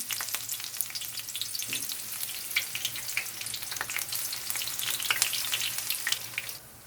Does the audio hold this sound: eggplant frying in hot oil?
yes